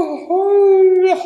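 A single drawn-out, tonal vocal exhale like a long yawn, rising then holding steady before trailing off with a breathy end.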